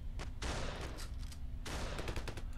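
Gunfire rings out in Ravenfield as two dense volleys of rapid shots, some way off, with a brief lull between them and a steady low rumble beneath.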